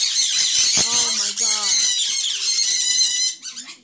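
A pet parrot screams loudly and continuously for several seconds, piercing shrill calls close by, with a few breaks and a human voice briefly heard beneath near the end.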